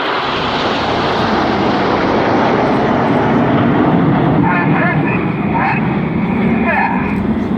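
RAF Red Arrows Hawk jets fly in formation at the Sunderland International Airshow, producing a loud, continuous roaring rumble that swells slightly as they pass, with a commentator talking over it.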